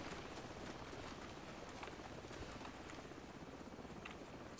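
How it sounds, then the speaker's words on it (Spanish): Helicopter in the Call of Duty Modern Warfare campaign, a steady rhythmic rotor chop sounding overhead and moderately loud amid background game noise. "Cuidado con el helicóptero, tío"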